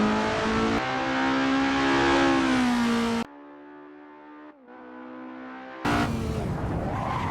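Renault prototype race car with a 1.6-litre, 309 HP engine on a track, its engine screaming loud and high through rising and falling revs, dropping to a quieter lower drone midway before surging back hard.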